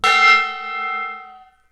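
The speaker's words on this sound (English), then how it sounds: "I have hit the gong." A gong is struck once, giving a loud, close, resonant metallic ring rich in overtones that fades away over about a second and a half.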